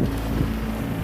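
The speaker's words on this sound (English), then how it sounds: "it's still a bit windy out here" Strong wind from a snowy blizzard roars steadily against the microphone outdoors, a loud continuous rumble with no talking.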